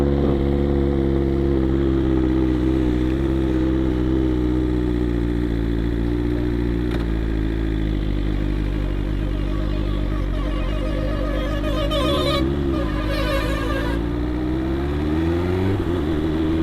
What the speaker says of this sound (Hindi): एक्चुअली ऐसा ज़्यादा रेव करना अच्छा नहीं है बाइक के लिए